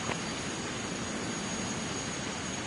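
A heavy jet airliner in Microsoft Flight Simulator X roars on its takeoff run, a steady broad whooshing engine rumble with a thin high whine, constant and unbroken.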